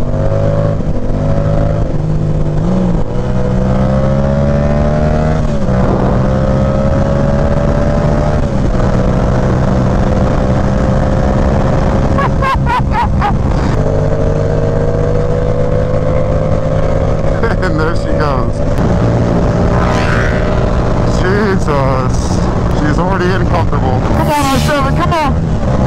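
Yamaha R7 motorcycle ridden on the road at sunset, its engine droning steadily with rising and falling revs and gear changes, wind noise throughout, and a rider talking over it.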